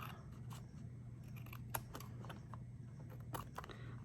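Scissors snip through craft material in a quiet room, a series of sharp, close cuts at irregular intervals over a low background hum.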